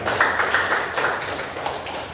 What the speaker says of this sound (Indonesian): beri tepuk tangan untuk dia